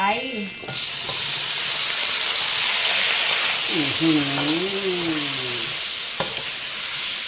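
Banana stalk stir-frying with shrimp paste in a pan, a loud continuous hiss and sizzle close up, with a voice talking briefly near the start and again partway through.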